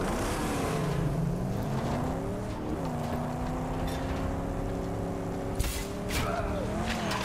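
Vehicle engine droning and revving in the Mad Max video game, pitch climbing and dropping with gear changes and a couple of sharp knocks, loud and continuous.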